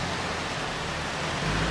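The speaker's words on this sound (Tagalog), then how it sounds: "Ayan, umuulan na." Rain beginning to fall outdoors at an open-air event venue, heard as a continuous, uniform broadband hiss that swells slightly at the end, with no voices over it.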